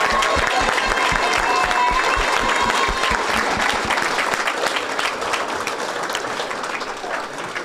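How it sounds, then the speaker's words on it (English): A room of attendees at a Board of Education special meeting breaks into applause, many hands clapping loudly and steadily, then gradually thinning and fading toward the end. "So let's give it a clap"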